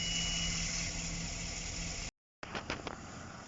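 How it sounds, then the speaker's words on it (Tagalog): A GMC Savana van engine idling evenly after a misfire repair, a steady low hum with a short dropout, then a few faint clicks and knocks near the end. "kung makikita nyo, hindi na palyado yung makina natin"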